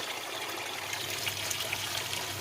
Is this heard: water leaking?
yes